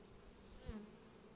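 A faint, low buzz of honeybees hovering at the hive, with one bee briefly droning louder as it passes close.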